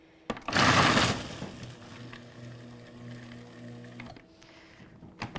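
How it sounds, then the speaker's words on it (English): A strong blender churns ingredients without water for drying foods, starting with a loud, harsh grinding burst, then settling into a steady lower whirring hum before cutting off. "now you can see why we need a strong blender"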